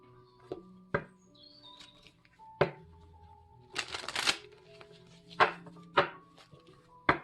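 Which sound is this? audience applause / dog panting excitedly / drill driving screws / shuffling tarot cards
shuffling tarot cards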